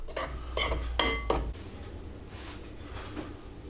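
Spoon clinks and scrapes against a bowl while cupcake batter for ice cream cupcakes is mixed, a few close sharp knocks at the start, then softer stirring.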